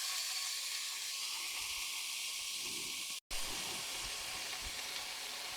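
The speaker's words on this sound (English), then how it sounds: "You take your steak and you want it to sear" Steak searing in a hot pan gives a steady, broad hiss and sizzle, close and fairly loud. It runs almost unbroken for the whole stretch apart from one very brief dropout in the middle.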